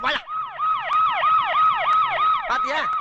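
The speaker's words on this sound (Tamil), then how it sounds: "சைரன் அலறுது பாரு. கேக்குதா?" A siren wails loud and near, repeating rapid rising-and-falling sweeps in a steady rhythm, with a brief burst of other noise at each end.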